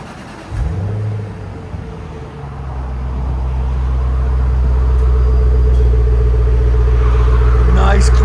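A 2005 Jaguar XKR with a supercharged 4.2-liter V8 and X-pipe exhaust fires up with a sharp start and settles into a steady, close, deep idle rumble that builds slightly and holds; a voice talks briefly at the start.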